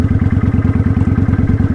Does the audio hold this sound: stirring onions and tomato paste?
no